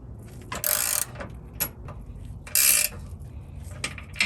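A ratchet wrench tightens bolts on a Carli high-mount stabilizer bracket for a 2019 Ram Power Wagon. Two loud bursts of rapid clicking come up close, with lighter single clicks and taps between them and no speech.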